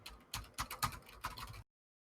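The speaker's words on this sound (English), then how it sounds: "But you hear furious typing" Furious keyboard typing, a quick flurry of sharp clattering keystrokes in uneven bursts, close and fairly quiet, stopping abruptly into silence.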